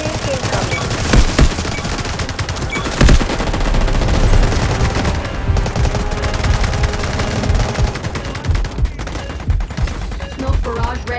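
Bizon submachine gun firing in the shooter game Delta Force Mobile, loud rapid bursts repeated throughout amid other battlefield gunfire and explosions, close and dense.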